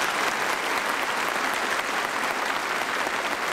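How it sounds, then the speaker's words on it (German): A German TV game show studio audience bursts into loud, dense applause that holds steady for the whole stretch, with no voices over it. "Klatschen Sie jetzt."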